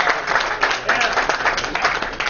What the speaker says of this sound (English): Please give him a round of applause and standing ovation.